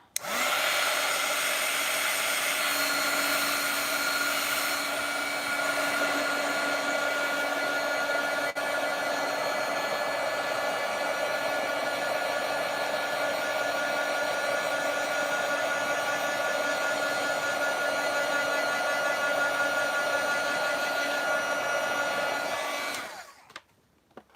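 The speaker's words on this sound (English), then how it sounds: "we're gonna head in with our heat gun" A heat gun blows continuously to emboss lettering in a journal, a loud, steady, close-up whirring hum with a fan tone. It holds for over twenty seconds and then switches off, with no speech.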